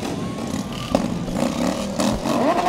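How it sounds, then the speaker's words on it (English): A souped-up Harley motorcycle rolls past in a Christmas parade, its engine a steady rumbling drone with a rising rev near the end, heard amid crowd noise and background chatter. "There's your Harley."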